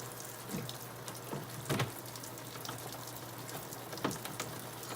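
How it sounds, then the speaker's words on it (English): Soft bristle brush scrubbing a waterproof RC truck body with water, a steady wet hiss broken by a few brief louder brushing strokes, close and alone without talk. "Scrubbing. Just want to make sure I get all the dirt off."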